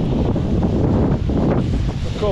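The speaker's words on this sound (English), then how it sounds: "Lovely little waterfall" A steady rushing of a small mountain waterfall near Scafell Pike in winter fills the scene, close and continuous, with some wind buffeting the microphone.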